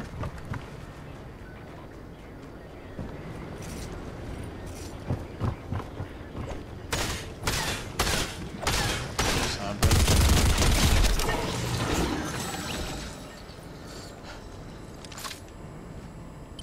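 Gunfire in the video game Fortnite, a run of sharp separate shots followed by a louder, denser burst with a heavy impact, set against a steady game background.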